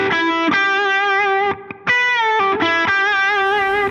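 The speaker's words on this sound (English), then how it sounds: "So just a really classic pentatonic riff." Electric guitar playing a classic rock pentatonic riff in single notes, driven through distortion, loud and close, with sustained bright notes and a brief pause near the middle.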